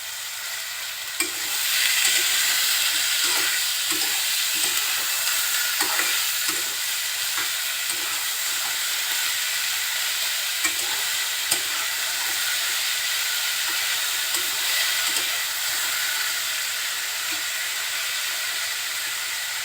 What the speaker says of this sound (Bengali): এখন সব কিছু একসাথে খুব ভালোভাবে নেড়ে চেড়ে নেবেন